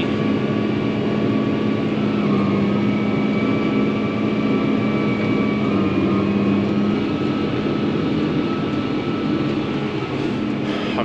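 A tractor pulls a disc through hard, dry field soil, giving a steady, loud engine drone with a constant hum and faint mechanical whine that holds unbroken throughout.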